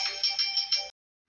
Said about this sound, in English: that was a phone call from the dentist, rescheduling my appointment.